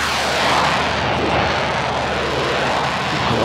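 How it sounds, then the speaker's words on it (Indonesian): A propeller airplane drones overhead, a steady broad roar that swells slightly and holds for several seconds with no other sound over it. "Kalau aku dengar pesawat, guys, ini juga segera menatap ke langit."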